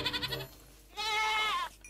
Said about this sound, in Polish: Jakaś koza.